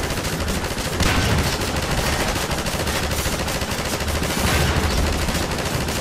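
An automated turret in the video game Half-Life 2 fires continuously as a dense, unbroken rattle of rapid shots, loud and steady throughout, with slight surges in intensity along the way.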